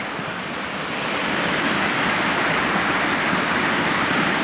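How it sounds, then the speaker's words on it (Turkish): A stream pours over a small waterfall, its flow muddy from recent floods, making a loud, steady rushing roar that swells slightly after the first second and then holds constant with no talking. "Deremize, şelalemize bakacağım. Çok güzel akıyor. Şarıl şarıl akıyor."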